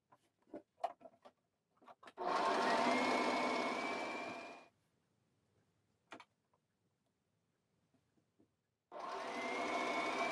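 Sewing machine stitching darts on a dress bodice: two steady motorized runs of rapid stitching, one about two seconds and one shorter, close, separated by quiet handling clicks, no talking.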